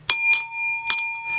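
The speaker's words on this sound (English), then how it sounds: "A couple little bells for that victory against this terrible casino." Little bells rung to mark a blackjack win at a casino table, three bright ringing strikes in quick succession, each leaving a sustained metallic tone, close and clear with no talking.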